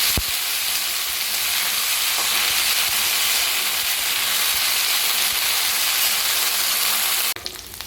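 Okra sizzling and frying in hot refined oil in a pan, a steady dense crackling hiss that runs loud and continuous throughout and cuts off abruptly at the end.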